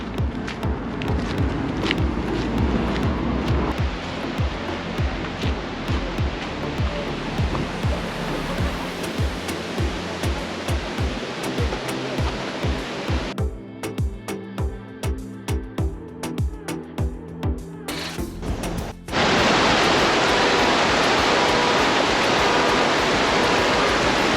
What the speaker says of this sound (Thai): ตอนนี้เนี่ยก็เดินมาถึงแล้วนะครับเขาเรียกว่า Eagle Fall นะครับ